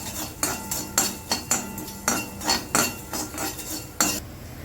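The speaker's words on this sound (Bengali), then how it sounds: "এবার এটাকে আমি নাড়িয়ে চাড়িয়ে ভেজে নেব।" Whole spices being stirred and fried in a hot wok, a metal spatula scraping and knocking against the pan in a rapid irregular series of about a dozen close, clanking strokes over a faint sizzle.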